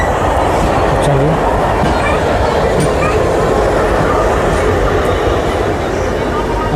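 Sealdah Rajdhani express train overtaking on a parallel track, a loud, continuous rumble of passing coaches with faint rhythmic wheel clatter, recorded from inside a moving train.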